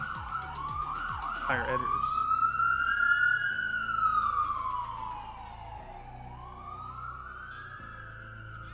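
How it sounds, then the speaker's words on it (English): Sirens of emergency vehicles wail past downtown, rising and falling in long sweeps over steady traffic rumble, with a brief voice at the start. "Bunch of sirens going by."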